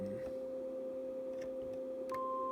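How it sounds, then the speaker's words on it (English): Synthesized sine-wave tones sound C notes, one steady pure tone joined by a second C stacked on top and then a higher C entering near the end, all sustained and clean with no talking. "I'm going to change it to sine waves. So that's a C. This is another C played on top of it."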